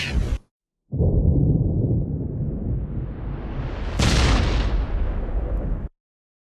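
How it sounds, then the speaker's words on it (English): Spacecraft port thrusters firing at full: after a brief sound and a short silence, a loud, steady broadband roar rushes for about five seconds, swelling briefly near the end before cutting off. "Port thrusters on full."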